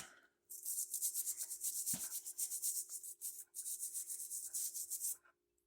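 A vintage chainsaw gets scraped clean of corrosion and old gasket material: quiet, close rhythmic rasping strokes run in two bursts separated by a brief pause.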